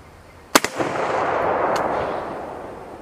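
A single sharp rifle shot cracks at an outdoor target range, followed by a quick echo and a long rolling rumble that fades over a couple of seconds.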